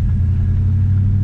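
A 1969 Chevrolet Chevelle 396 Super Sport V8 idling on a test drive, a loud, close, deep steady rumble with a throbbing low burble and no voices.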